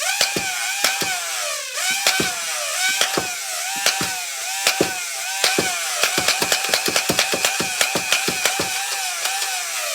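A 3D-printed Nerf Mayfly half-dart magfed flywheel blaster whirs and fires Worker Gen 2 foam darts, with a rising flywheel whine and sharp shots that start spaced apart and then come faster in rapid bursts.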